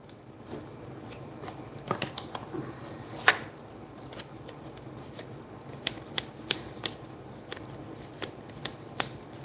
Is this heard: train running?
no